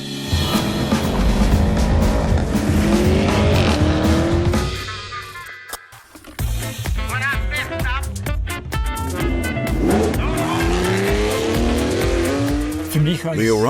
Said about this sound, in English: this central layout of the exhaust system allows us to generate a more emotional sound with an even higher